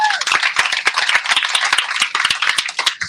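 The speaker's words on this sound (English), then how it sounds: "So give that a round of applause." Dense, loud clapping from an audience at a live entertainment and podcast event, a steady crackle of many hands filling the short stretch with no voices over it.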